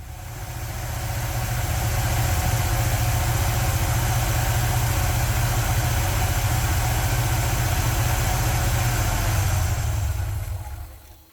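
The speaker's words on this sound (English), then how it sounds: "we just sit and wait for the engine to use up all the fuel that's in the bowl" A car engine fitted with a Holley carburetor idles steadily with a low, constant rumble and vibration, running unchanged for several seconds before sputtering and cutting off at the end as the fuel bowl runs dry.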